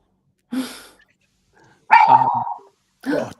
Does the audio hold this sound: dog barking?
yes